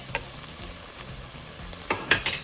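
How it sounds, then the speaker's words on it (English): Garlic and ginger paste sizzling as it is sautéed in a pan for tomato rice, a faint steady fry with soft stirring clicks and a few sharper scrapes near the end. "right now I'm adding the garlic paste as well as the ginger paste"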